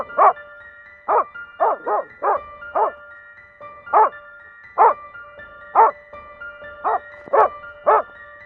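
A dog barking at a bear, a dozen or so sharp, loud single barks spaced in an uneven rhythm, close and clear over a quiet background.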